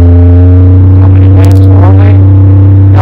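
Twin Yamaha F150 outboard motors on a 2005 Seasport boat, with throttle pushed up: a loud, steady low engine drone with strong harmonics, rising slightly in pitch and roar partway through, with water and wind noise on top.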